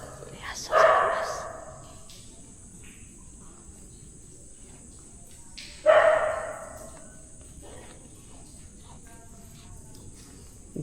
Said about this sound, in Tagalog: may aso kasi dun sa labas